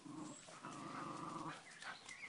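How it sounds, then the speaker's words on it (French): Dogs in a garden whining and growling, a close, drawn-out whimper rising into higher cries over about two seconds. "Fripouille, arrête de crier pour rien. Tu cries pour rien"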